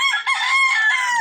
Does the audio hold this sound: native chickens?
yes